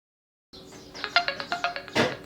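A Boat Storm Call 3 smartwatch plays its ringtone, a short run of bright, evenly spaced electronic chimes rising in pitch and ending on a louder tone, close and clear with no talking.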